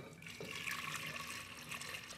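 Water pours steadily into a pot for bean soup, a continuous splashing rush with no break, close and moderately loud, with no voices.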